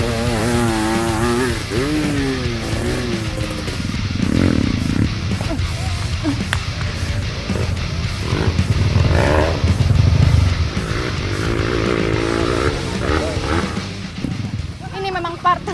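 A motorcycle engine revs and labors on a steep uphill trail, its buzzing note rising and falling and straining close by, while voices talk throughout.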